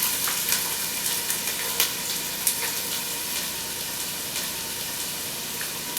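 Chopped onions frying in hot peanut oil for pilau give a steady, dense sizzle with faint crackles and pops throughout, close and continuous.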